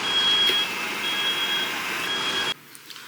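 A moving truck reverses before dawn, its backup alarm beeping in a steady repeated tone over a low engine hum, then cutting out abruptly near the end to near silence.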